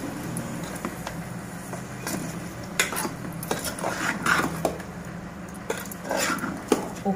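Chicken for gongura chicken being stirred in a metal cooking pot, with repeated scraping and clinking of a spoon against the pot in an irregular rhythm over a low background hum, close and moderately loud, with no talk.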